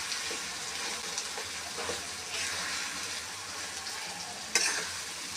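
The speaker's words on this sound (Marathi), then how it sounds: "सर्व वाटण टाकून याला आपल्याला मस्त स्लो गॅसवर भाजून घ्यायचं आहे" Green chili chutney paste roasts over a low gas flame with a steady, soft sizzle and frying hiss, stirred now and then, with a brief sharper scrape near the end.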